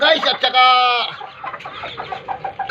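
Pet game-farm chickens cluck and call close by in a short burst, with a rooster-like drawn-out note early on and livestock chatter continuing after.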